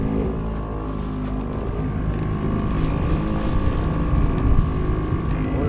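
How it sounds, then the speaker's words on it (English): Small sailboat motoring under outboard engine power, with a steady close drone of the motor and water rush layered with gusty wind buffeting the microphone throughout. "We're motoring through here because there's a chance we might need to, so we're going to leave it on."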